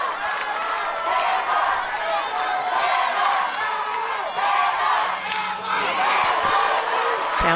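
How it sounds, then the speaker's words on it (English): Raucous crowd cheering at an NCAA college softball game between Alabama and Auburn, with loud, continuous shouting, whoops and chanting from packed stands, a commentator talking over it. "Raucous crowd. All kinds of background noise and activity."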